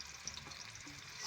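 Chillies fry in hot oil in a home kitchen, a faint steady sizzle with soft crackle throughout the short stretch and no voices.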